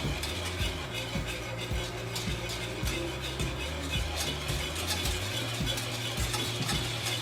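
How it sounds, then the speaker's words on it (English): Vegan mac and cheese sauce stirred steadily in a pan, with a spoon scraping and knocking against the metal in a repeated rhythm under a low, constant kitchen hum. "stirring all the time, make sure you keep this nice and smooth, this sauce"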